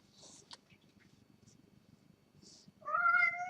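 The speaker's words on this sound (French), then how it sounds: "Mon chat qui miaule." A pet domestic cat lets out a single clear, loud meow near the end, following a stretch of quiet room background with a few faint clicks.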